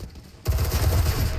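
Gunfire erupts in the video game Enlisted, a sudden loud, dense burst of rapid shots that starts after a brief quieter moment and keeps going to the end.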